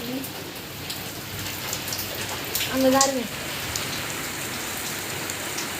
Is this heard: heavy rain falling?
yes